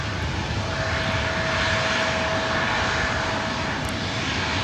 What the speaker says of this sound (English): That was WestJet Flight 1430 coming in from Edmonton, Canada,